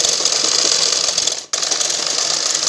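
A sewing machine stitches a 42-inch blouse in a loud, continuous mechanical whir that cuts out for a brief instant midway and then starts straight up again.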